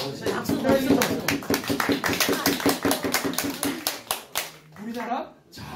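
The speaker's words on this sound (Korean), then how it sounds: "박수 박수." Clapping from a lecture audience at a talk, a run of quick sharp hand claps mixed with voices speaking and reacting over it, close and fairly loud before tapering off.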